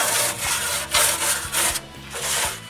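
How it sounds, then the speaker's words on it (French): A steel wire brush scrubs a cement mixer after concrete work, giving loud, close, rhythmic rasping strokes in repeated back-and-forth bursts with brief pauses, with no talking. "Je le frotte avec une brosse à brin d'acier."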